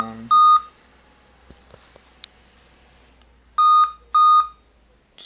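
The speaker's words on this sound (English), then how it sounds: "those beeps sound like it's going to be on memory" Power-on beep codes from a Dell laptop after a motherboard replacement: one clear beep, then a pair of identical beeps a few seconds later, with faint clicks between them in a quiet room.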